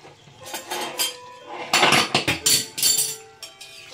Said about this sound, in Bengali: দেখুন এবার আমি ঢাকনাটা তুলছি